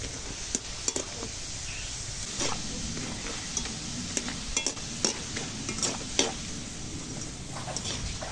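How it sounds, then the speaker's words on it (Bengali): Okra papad fries in hot oil with a soft, steady sizzle, broken by scattered light ticks and crackles at a modest distance, with no voices. "এগুলো এখন ভাজবো। এই দেখো ঢেঁড়স পাঁপড়,"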